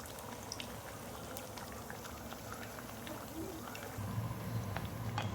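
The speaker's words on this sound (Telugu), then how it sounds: "లైట్ బ్రౌన్ అయ్యే వరకు మనం ఫ్రై చేసుకోవాలి." Ariselu (anarse), South Indian sweets, frying in hot oil with a steady bubbling, crackling fizz that swells a little louder toward the end, close and continuous.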